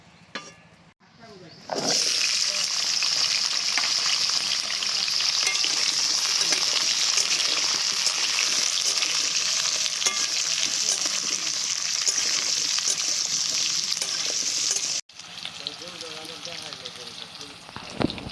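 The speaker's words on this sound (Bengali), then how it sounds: "প্রথমে আমি ওই যে ওলকপি আর আলুটাকে ভেজে নেব ভালো করে" Kohlrabi and potato pieces frying in oil in a pan give a loud, steady sizzle that holds for about thirteen seconds, ending abruptly, with quieter kitchen sounds before and after.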